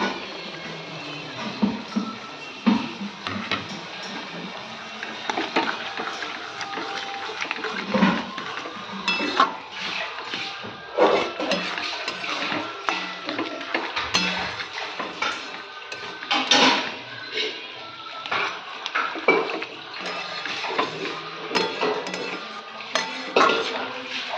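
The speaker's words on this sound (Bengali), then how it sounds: "এবার আমি এই টক শাকটা দিয়ে দেবো।" Leafy sour greens (tok shak) going into a metal cooking pot in a home kitchen, with steady clatter, clinks and scraping of utensils against the pot throughout, fairly close and busy, no talking.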